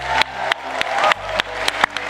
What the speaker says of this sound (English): It's time to give yourselves a massive round of applause.